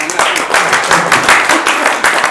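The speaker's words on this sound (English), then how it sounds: "Give her a round of applause." Audience at a community gathering about the new Met Commissioner and the Black community in Hackney breaks into a dense, steady round of applause for a woman, loud and continuous throughout.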